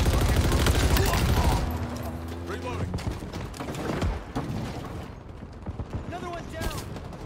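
Heavy gunfire and explosive blasts during a Big Team Battle match in the video game Halo Infinite on Xbox, loud and dense at first, then continuing as scattered bursts and whooshing effects over rumbling ambience.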